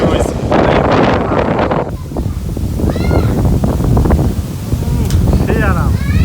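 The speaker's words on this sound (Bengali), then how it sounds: "হঠাৎ করে এই বিকেল বেলায় ঝড় শুরু হয়েছে।" A sudden afternoon storm in a village brings loud, buffeting wind that roars across the microphone, steady throughout, while people talk and call out over it.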